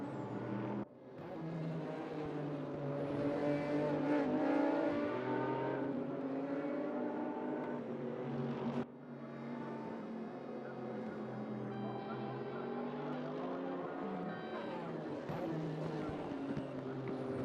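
Race cars pass on a circuit, a continuous close engine drone whose pitch rises and falls as they go by, heard under a commentator's voice.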